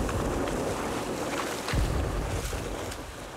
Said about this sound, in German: In dieser Nacht ist der Wellengang noch stärker als in der letzten.